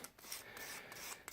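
Fine-grit sandpaper rubbing over a painted 3D-printed thermoplastic part, soft quick rasping strokes close by and faint.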